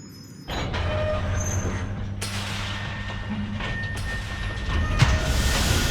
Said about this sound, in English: Alright, let's start the train.